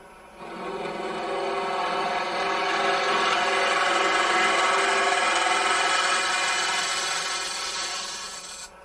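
A wood lathe turning a simple wooden box as the tool cuts a 1/16 inch deeper, giving a steady, loud scraping rasp that rises in over the first half second and holds evenly until it stops near the end.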